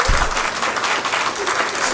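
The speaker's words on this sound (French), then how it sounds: "Applaudissez-vous" An audience in a hall at a Côte d'Ivoire press awards launch ceremony bursts into dense, sustained applause, many hands clapping steadily at close range for the whole moment.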